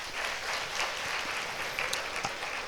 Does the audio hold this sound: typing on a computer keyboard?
no